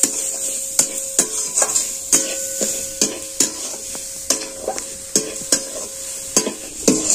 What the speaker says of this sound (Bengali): এবার এটাকে আমি ভালো করে নাড়াচাড়া করব, করে একটা পুর তৈরি করে নেব।